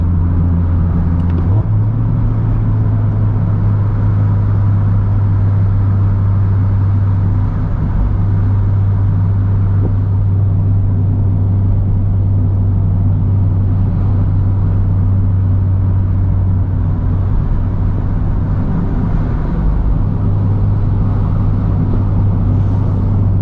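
Several Mazda Miata cars drive together along the Colorado National Monument road, giving a steady, close engine drone and road rumble that holds level throughout with no one talking.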